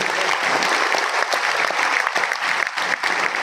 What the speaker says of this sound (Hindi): बच्चा सर को जानते हैं सब लोग? थोड़ा तालियां बजा दीजिए।